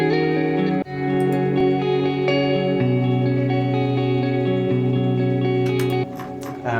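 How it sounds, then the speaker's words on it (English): Layered guitars in an electronic music track, drenched in chorus, echo and distortion effects, playing sustained chords that shift a few times, loud and continuous with no talking. "So the guitars here all start to sound like this."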